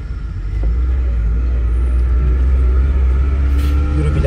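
A Tofaş car engine runs during a test drive, a steady loud rumble with interior road noise that settles into a sustained drone.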